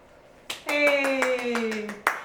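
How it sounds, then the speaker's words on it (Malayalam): Rhythmic hand clapping at a website launch celebration, a run of sharp claps layered over a steady tonal, music-like hum, ending with one louder final clap. "എല്ലാവരും കൈയടിച്ചോളൂ കേട്ടോ"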